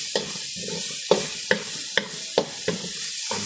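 Tomatoes sautéing in a pan under a steady sizzle, with about eight sharp spoon scrapes and knocks coming at a fairly regular rhythm, close up and without talk.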